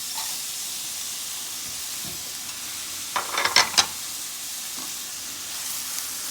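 Garlic and frozen green peas fry in a pan with a soft steady sizzle, broken midway by a short burst of louder crackling and stirring, then settling back to a quiet hiss.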